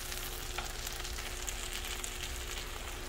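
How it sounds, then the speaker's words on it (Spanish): Garlic sautés in a pan with a steady, quiet sizzle that hisses evenly throughout, with no talk. "Vamos a esperar un poquito que el ajo se guise."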